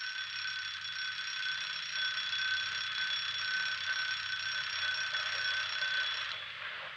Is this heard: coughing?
no